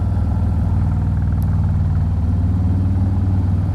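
A 2024 Harley-Davidson Street Glide motorcycle cruises along the road, its engine giving a steady, loud, low V-twin throb with faint wind noise and no voices.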